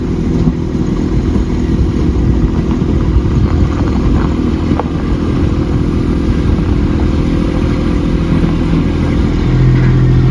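A grading machine's diesel engine running steadily while regrading a gravel driveway, a loud continuous low rumble up close with little change in pitch throughout.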